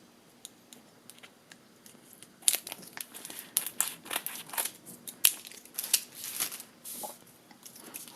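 Scissors cut rows from a sheet of gem stickers, making crisp snips and crinkling paper rustles that start quiet and sparse and then become busy and close from the middle onward.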